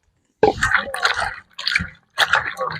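Chopped butter beans are rinsed in water, with three short bursts of splashing and sloshing close by, separated by brief pauses.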